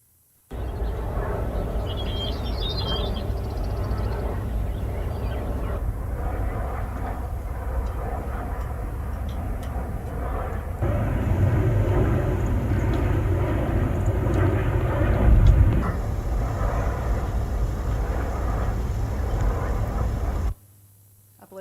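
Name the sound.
recorded wind turbine noise, swishing and rhythmic thumping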